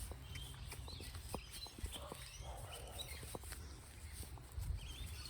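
Ruby the horse trots on the ground during groundwork, giving a run of soft, irregular hoof thuds at moderate distance over a steady low rumble of outdoor background.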